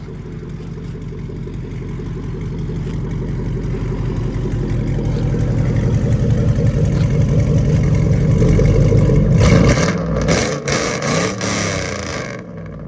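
A 2002 GMC Yukon's 5.3L V8 idles steadily through true dual straight-pipe exhaust with a deep, throaty rumbling tone, swelling slightly before cutting down near the end.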